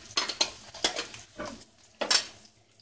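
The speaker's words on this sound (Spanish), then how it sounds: "Vamos a freír aquí la cebolla." Onion frying in a pan at home, with sharp scraping and clinking strokes of a utensil stirring it, four or five distinct bursts over a quiet background, close and without talk.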